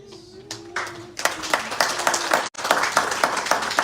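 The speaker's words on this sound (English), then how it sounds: "I want you to clap for" Clapping from a crowd of Ugandans at a town hall meeting in Copenhagen, starting sparse with a few hands and building into sustained, rhythmic applause with a brief cut partway through.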